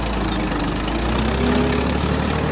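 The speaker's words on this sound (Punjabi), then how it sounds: "ਓਏ ਹੋਏ ਚੁੱਪ ਚੱਲਾ ਟਰੈਕਟਰ ਹੁਣੇ" A tractor engine idles steadily with a low, throbbing rumble that stays loud and even throughout, with no voices.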